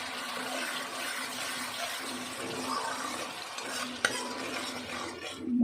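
Water poured into spices frying in a pan gives a steady, moderately loud hiss and sizzle. A single sharp clink cuts through near the end.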